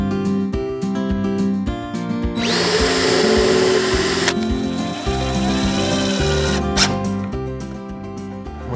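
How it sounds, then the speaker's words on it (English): A power drill whirs steadily for a couple of seconds, drilling pilot holes into wood, nearby and loud, while music plays underneath throughout. "we will drill our pilot holes first"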